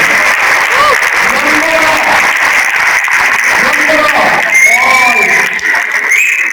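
A large audience at a Vestige Success Summit breaks into loud applause mixed with cheers and whoops, a dense roar of clapping with shouting voices rising above it near the end.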